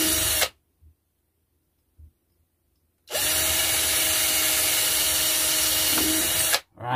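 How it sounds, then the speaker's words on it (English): A power drill whirs loudly in two long bursts, drilling holes in wood, stopping briefly in between, with a few faint knocks during the pause. "I'm just going to drill loads of holes and then try and clean it up afterwards"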